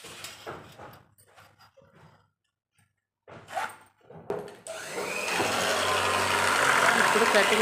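An electric cutting machine slices through a stack of bag fabric marked at 10x9 size, a loud steady whirring grind starting midway and running to the end after a stretch of handling noises and brief talk.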